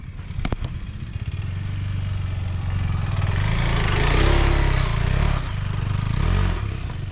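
A KTM 390 adventure motorcycle climbs a hill with the clutch slipping, its engine droning steadily and swelling in revs, with some clatter from the bike and terrain.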